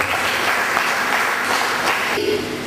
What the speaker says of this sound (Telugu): అందరు చప్పట్లు కొట్టండి దయచేసి గట్టిగా.